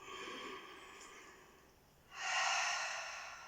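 Deep, slow breathing during a stretching exercise, with a soft breath first and then a stronger, louder exhale that fades out, close to the microphone.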